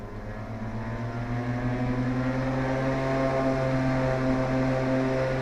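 A small airplane engine roars at full power with fuel pumps on, a loud steady droning hum with strong tonal harmonics that rises slightly and holds, in a single-engine plane flying an instrument approach to Oakland.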